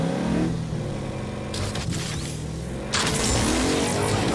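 Car engine revving in the Agents of Mayhem video game, a steady mid-range motor drone with a louder surge of revving and mechanical noise toward the end, no voices.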